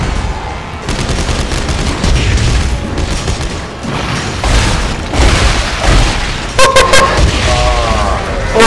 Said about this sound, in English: Okay, use the force gun now.